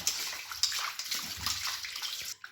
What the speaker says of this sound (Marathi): आता हे चिकन आहे धुवून घ्यायचं चांगल्या पाण्यानं